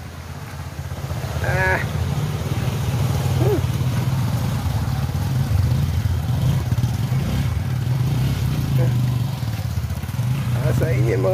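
Motorcycle riding along a rocky, muddy rural road between Gensan City and Glan, Sarangani, its engine a steady close rumble throughout, with occasional clatter and a few short shouts and voices over it.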